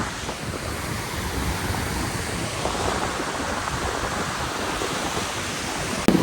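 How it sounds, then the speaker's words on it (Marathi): Two mountain rivers meet near Mana village on the Char Dham route, where a bridge is under construction; their rushing water makes a constant loud roar, mixed with some wind buffeting, with a brief knock at the very end. "इथून एक नदी येते आणि तिकडून एक नदी येते"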